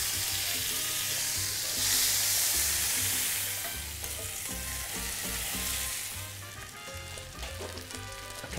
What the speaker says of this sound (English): into a nice hot pan, add a splash of oil. And take my rumps, and I want to sear them off on all sides